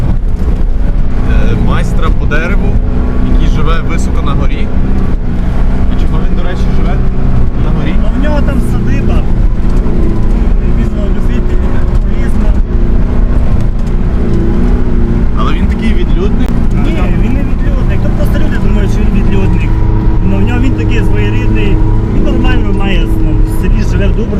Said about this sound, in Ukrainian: Їдемо до Янка Деревляну.